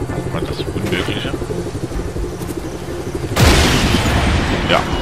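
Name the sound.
explosion on landing in video game Just Cause 3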